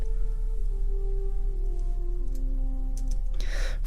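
A separated electronic bass line from a house track plays as sustained notes that step down in pitch, over a steady low hum, ending in a short noisy burst.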